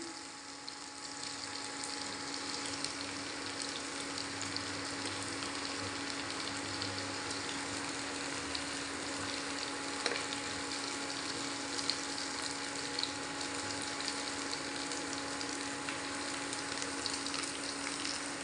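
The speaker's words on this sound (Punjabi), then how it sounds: "ਭਿੰਡੀਆਂ ਆਪਣੀਆਂ ਫਰਾਈ ਹੋ ਗਈਆਂ ਹੁਣ ਇਹਨੂੰ ਆਪਾਂ ਤੇਲ ਤੋਂ ਬਾਹਰ ਕੱਢ ਲੈਣੇ ਆ" Okra (bhindi) frying in a pan of hot oil, a steady close sizzle with fine crackling that runs without letup, small pops rising here and there, and no voices.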